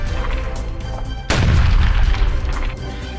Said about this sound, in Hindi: गाजा के राफा में एक बार फिर इजरायली वायुसेना ने भीषण बमबारी की